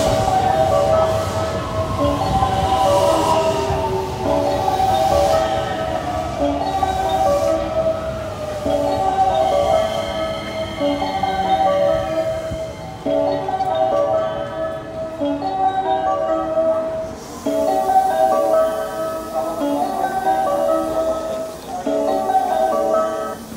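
A Special Rapid Service train rumbles and squeals steadily at close range as it arrives at Sannomiya station during evening rush hour, with metallic tones and a hum of station noise throughout.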